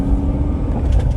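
A Chevrolet Corvette C6 cruises a freeway in Columbus, Ohio, giving a steady, loud low engine and road rumble heard from inside the car for about a second, with no talking.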